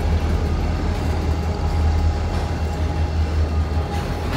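A CSX freight train begins to move as its slack is pulled out, giving a steady, loud low rumble with a faint whine held throughout and no distinct couplers clanking heard.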